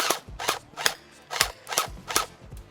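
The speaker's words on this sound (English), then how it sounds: "Got to get a few shots in so it can cycle the mag." An UnlocX gel blaster fires six or seven shots in an even rhythm, each a sharp, close snap with a mechanical clack as the mechanism cycles.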